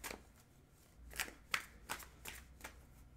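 Osho Zen Tarot cards are shuffled in a handful of quick, crisp riffles and slaps, close but quiet, with no one talking.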